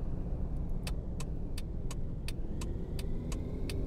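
Car driving along a narrow street in an unfamiliar neighbourhood, a steady engine and road rumble heard from inside the cabin, with a regular ticking, likely the turn signal, clicking over it.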